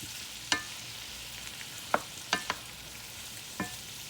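Summer squash cooking down in a pan gives a quiet, steady soft sizzle, broken by a few sharp clicks and scrapes of a utensil against the pan at irregular intervals.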